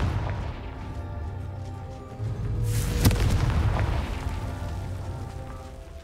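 A Confringo spell explosion in Hogwarts Legacy: a deep booming blast swelling around the middle, with a sharp crack at its peak, over a low rumbling game background and no talk.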